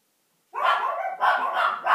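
Several dogs bark in a quick series of loud, close yaps, starting after a short silence and continuing in bursts.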